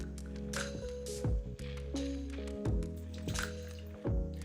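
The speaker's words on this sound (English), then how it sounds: "Next, you want to pour an ounce of vodka into your shaker." An ounce of vodka glugs into a cocktail shaker filled with ice for a mudslide, with wet gurgling pours and clinks punctuated by a few louder bursts, close and without talk.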